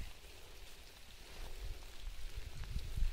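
Rain patters on a farm orchard plot of Taiwan pink guava trees, a soft, faint steady hiss with low rumbling gusts that grow slightly louder toward the end; no speech.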